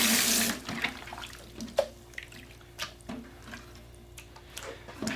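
Catfish fillets are rinsed under a running tap, a soft steady stream of water with scattered splashes and drips, faint and close.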